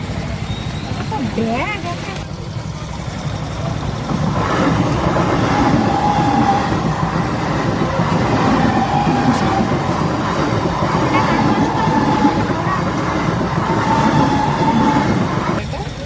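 A train rumbles past a level crossing near Nabadwip station, a loud, steady rolling roar with rattling carriages that lasts throughout, with occasional voices underneath.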